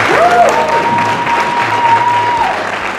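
Audience at a 2015 Ohio State University hackathon bursts into loud, dense clapping that fills the whole stretch, with a thin sustained whistle tone running through the middle of the applause.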